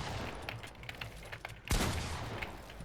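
Fortnite weapons fire in a quiet scatter of quick shots, then one sharper, louder blast stands out before the shooting carries on faintly.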